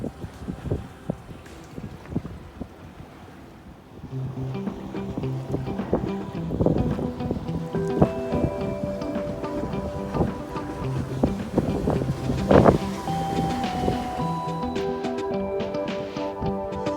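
A sailboat runs dead downwind, with soft wind rush and water sloshing along the hull, growing louder and busier midway, with creaks and knocks from the boat.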